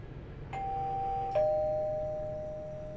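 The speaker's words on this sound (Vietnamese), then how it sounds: "Bấm chuông thử đi coi" Electronic doorbell chime with two close ding-dong tones, the second ringing out and fading slowly over a low background hum.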